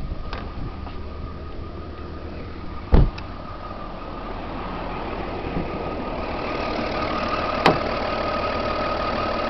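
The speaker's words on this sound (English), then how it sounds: "I'll just leave the engine running now." An Audi A4 V6 TDI diesel engine idles steadily and close by, a continuous low rumble with a faint even hum, broken by two brief sharp clicks.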